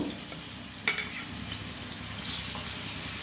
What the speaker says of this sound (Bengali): কুমড়োগুলো ভাজতে দিয়েছি